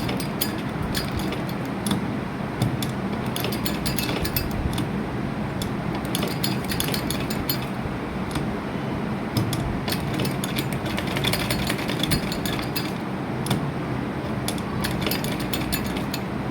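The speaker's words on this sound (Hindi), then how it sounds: "ये गुलाई में आहिस्ता आहिस्ता मशीन को चलाना है और बुकरम के साथ साथ।" A sewing machine stitches slowly around a curve through buckram, a dense steady mechanical whir with fast rapid ticking running throughout, close and uninterrupted.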